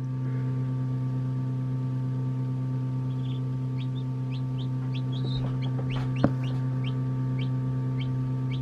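A newly hatched chick and other fowl make repeated short high peeps and chirps, spread through the clip over a steady low hum of an incubator or brooder. One brief louder knock sounds near the end.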